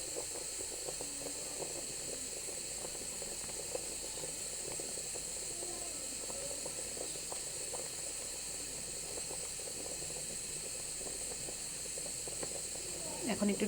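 Radish curry simmering after broth is poured in, a steady broadband hiss of steam and sizzle that runs evenly throughout, with faint background voices and light clatter near the end.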